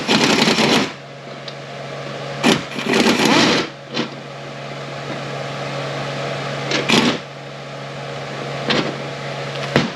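An impact wrench removes the pump bolts on a Ford 5R110W transmission during a rebuild. Several short, loud rattling bursts are spaced unevenly over a steady low hum in a quiet workspace.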